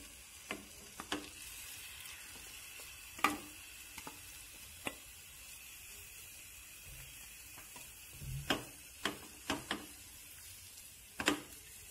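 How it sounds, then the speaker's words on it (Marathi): Grated cucumber goes into hot ghee for kakdiche vade, giving a faint steady sizzle in a quiet kitchen, broken by a scattering of sharp close clicks and utensil knocks. "तूप तापल्यावर काकडीचा किस घालते"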